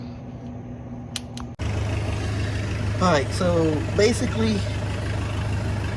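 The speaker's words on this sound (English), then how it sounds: "the tractor is running in the background" A tractor engine idles steadily in the background, a low constant drone that begins abruptly and carries on beneath someone talking.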